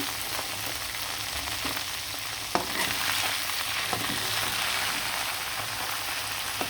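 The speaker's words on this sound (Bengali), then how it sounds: "লাল লাল করে মাংসটা খুব সুন্দরভাবে ভেজে নেব" Chicken leg pieces fry in a pan with a steady, dense sizzle that holds at an even level throughout, with no voices.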